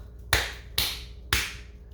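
Three sharp hand claps, evenly spaced and close by, used to test a Simon XT glass-break sensor in a kitchen.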